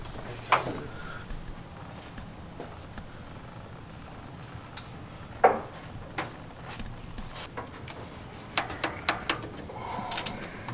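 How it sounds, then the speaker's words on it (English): Preset torque wrench tightening bolts on a farm truck, scattered sharp mechanical clicks and ratcheting ticks at close range, irregular with a quick cluster near the end, over a low background hum. "That little torque wrench is kind of preset and it torques everything down"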